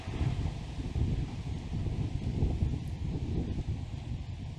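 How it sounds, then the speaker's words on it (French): Steady wind blowing outdoors, a continuous low rumbling roar buffeting the microphone with faint rustling on top, loud and unbroken throughout with no voices. "Il y a du vent aujourd'hui."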